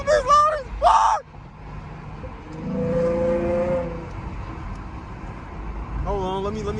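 A loud V6 Ford Mustang engine accelerating hard, heard from the cabin, with a rising harmonic drone in the middle of the clip. Someone talks briefly at the start and again near the end.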